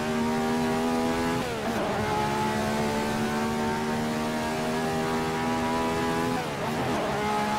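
A Ferrari 312/67 race car engine in Assetto Corsa holds a steady high-pitched drone with two quick dips around gear changes, loud and close, with no talking.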